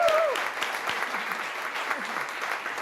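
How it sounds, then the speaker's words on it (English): Audience at a startup competition stage at South Summit 2017 applauds a finalist; a burst of sustained, dense clapping fills the space, with a voice briefly heard at the start. "Round of applause for Guillermo."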